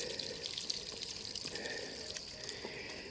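Cold water runs and trickles steadily at a trail water source on a mountain loop in Shenandoah National Park, a soft, close, continuous babble with small drips and no talking.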